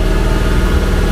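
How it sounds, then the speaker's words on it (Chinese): A Porsche with a flat battery runs steadily at idle or light throttle to recharge, a continuous low engine rumble with faint vibration, close and constant throughout, no voices. "我加速让它着个10分钟"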